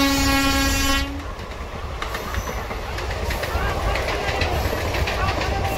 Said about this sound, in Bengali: দেখো হাওড়া মেদিনীপুর লোকাল যাচ্ছে এটা